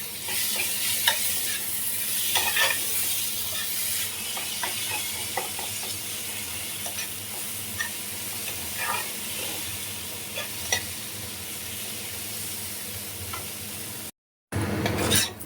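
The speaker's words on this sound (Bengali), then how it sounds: "কচু শাক ভাজা হয়ে গেছে, এবার গ্যাসটা আমি বন্ধ করে দিচ্ছি।" Taro greens stir-fried with fried prawns in a pan, seasoned with salt and turmeric: a steady close sizzle runs throughout with repeated scraping and stirring clicks, then a brief cut to silence near the end.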